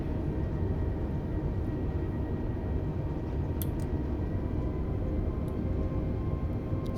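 A steady, broadband roar from an Airbus A320neo's thrust reversers just after landing in Microsoft Flight Simulator 2020, a continuous moderately loud rush with a couple of faint clicks and no voices.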